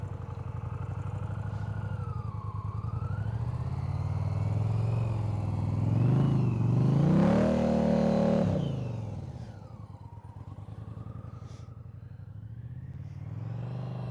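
A motorcycle engine held at low, steady throttle during slow riding practice, its tone rising and swelling loudly mid-way as the revs climb, then easing back to a smooth, continuous hum.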